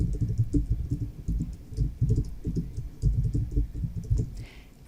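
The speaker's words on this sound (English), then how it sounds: "we're going to type in that person's name" Someone types a name on a computer keyboard in a steady series of soft, close keystrokes.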